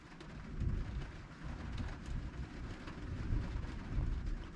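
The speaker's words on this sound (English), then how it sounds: "It's raining now." Steady rain pours down during a tornado warning near Tulsa while thunder rumbles low and continuous beneath it, swelling and fading in waves. No voices are heard.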